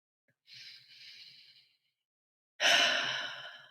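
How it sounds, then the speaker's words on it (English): A person draws a slow deep breath in, followed after a short pause by a louder, fuller exhale-like rush of breath; close and intimate with no talking. "Take a nice deep breath in."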